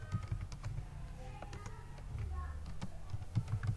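A prompt is typed on a computer keyboard for ChatGPT and DALL-E 2, a close, rapid run of light key taps with small pauses, under a low background hum.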